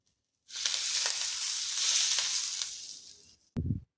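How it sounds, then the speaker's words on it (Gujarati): Hot oil poured over a grated potato and fenugreek mixture for masala puri dough, giving a loud steady sizzle for about three seconds that fades out, followed by a short low thump. "તો હવે આપણે તેલને ઉમેરી દઈશું।"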